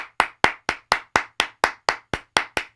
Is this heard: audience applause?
yes